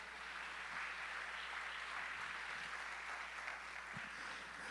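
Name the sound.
congregation applause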